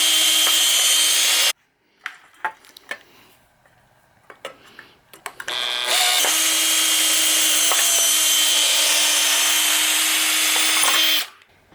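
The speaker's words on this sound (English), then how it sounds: "I drilled some holes." Power drill boring holes for a light fixture's hanger mount, with a long steady whine at the start, a pause filled with scattered clicks and knocks, then a second long sustained drilling run, loud and close.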